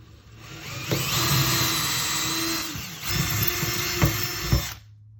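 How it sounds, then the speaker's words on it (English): A power drill whirs steadily for several seconds while drilling a hole for a cabinet pull, dips briefly, then spins up again with a few sharp bumps before stopping. "I'm going to drill this one ever so slightly off the center."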